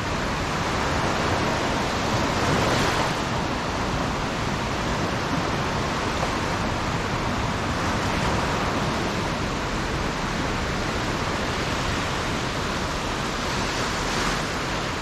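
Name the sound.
sea waves at Ulcinj, Montenegro in winter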